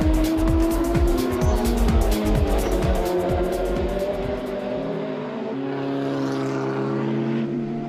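Race cars at the 24 Hours of Nürburgring 2011, including a Manthey Porsche, a Mercedes SLS, a BMW and a Nissan GT-R, roar past one after another with rising and falling engine notes, then fade into a steadier, more distant drone.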